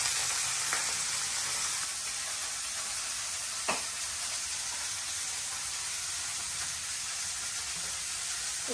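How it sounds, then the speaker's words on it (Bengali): Food fries in a pan with a steady, dense sizzle that holds throughout, close and fairly loud, broken by a couple of faint clicks of a utensil. "সব একসাথে দিয়ে দিচ্ছি ভাজা, একটু ভালোভাবে লাল হলো,"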